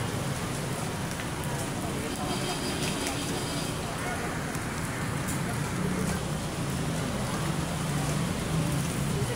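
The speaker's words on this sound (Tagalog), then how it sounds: "Umulan na, umulan." Steady rain pours down in a dense, continuous hiss, with faint muffled voices and background noise underneath.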